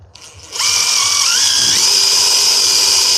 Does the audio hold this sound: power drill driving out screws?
yes